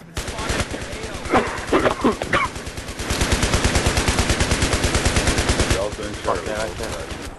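Gunfire and a grenade blast in the video game Battlefield 3: loud, steady bursts of automatic fire, with sharp explosive cracks mixed in. The sound is close and fills most of the clip.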